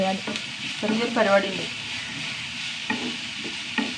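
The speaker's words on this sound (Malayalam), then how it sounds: "നമ്മുടെ ഉള്ളി വഴണ്ട് വന്നു" Chopped onions sautéing in a pan, a steady sizzle with stirring scrapes, while a person talks briefly over it near the start.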